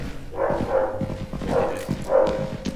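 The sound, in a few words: strange-sounding dog barking in Content Warning video game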